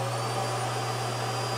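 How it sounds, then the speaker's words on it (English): Central vacuum system running inside a camper travel trailer, a steady, loud whooshing roar with a constant low hum underneath, unbroken throughout with no talking. "you can sweep up inside your camper and sweep all your crumbs away with the central vac"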